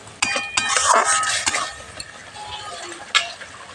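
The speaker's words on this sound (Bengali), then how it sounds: "খুব ভালো করে আমি মশলাটা কষিয়ে নেব।" Spice masala being stir-fried in a pan for a potato and eggplant curry, with a spoon scraping and stirring against the metal over a soft sizzle, plus a few sharp clinks near the start and end.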